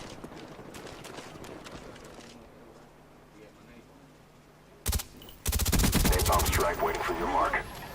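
Spectre submachine gun fired in the Black Ops video game: quiet game ambience first, then a sharp short shot and a loud sustained rapid-fire burst that runs to the end.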